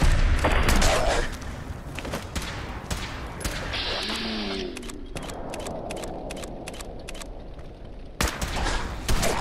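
Gunfire in the VR version of the video game Fallout 4 comes as loud, sharp repeated shots and bursts in uneven clusters, close and punchy, with brief pauses between volleys.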